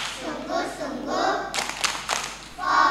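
Children clapping through a chant with a teacher in a kindergarten radio studio, several sharp claps in a rhythmic burst amid young voices chanting.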